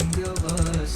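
Quick burst of typing on a computer keyboard, several close, crisp key clicks in rapid succession over a faint background hum.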